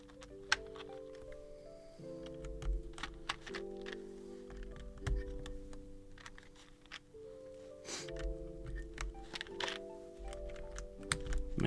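Steady clicking and clacking of keys on a full-size computer keyboard, with bursts of quick typing over music-like tones in the background.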